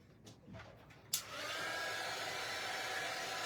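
A hair dryer clicks on and blows steadily over a craft cutout, a continuous airy whir that starts abruptly after a few soft handling sounds and holds at moderate volume.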